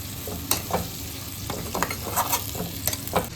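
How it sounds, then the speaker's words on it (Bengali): Fried onion and tomato with ginger-garlic paste and dried red chilli paste stirred in a pan, with irregular close scrapes and clicks of the utensil over a steady frying sizzle and no speech. "এবার নেড়ে চেড়ে ওদেরকে মিশিয়ে দেওয়ার পালা"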